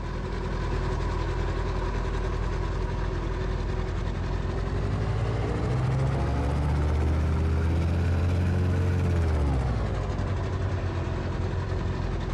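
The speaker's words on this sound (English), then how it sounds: "you just heard the engine sound, I hope" Engine of a Polaris AM-FIB flying inflatable boat aircraft idling in a flight simulator, a steady droning hum that holds loud and constant throughout, with a low tone sagging and rising midway, no voices.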